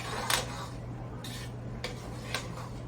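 A spatula stirs softening peanut butter in a pot, giving a few faint clinks and scrapes spaced about half a second apart over a quiet hum.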